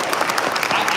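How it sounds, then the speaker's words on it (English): Brief burst of audience applause at a live seminar in Vegas, dense clapping from a crowd filling the whole moment, loud and close. "Clap it up for that."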